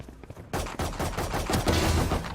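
Rapid gunfire bursts from a shooting video game, dense repeated shots starting after a brief quiet lead-in and continuing loudly throughout, ending on a headshot.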